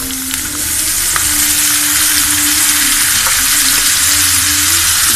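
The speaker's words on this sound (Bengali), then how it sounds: "দেওয়ার পরে আমি সুন্দর করে আবারও নেড়ে দিচ্ছি।" Pumpkin pieces fry in oil in a pan, a steady loud sizzle with a few soft scrapes as they are stirred, no talking.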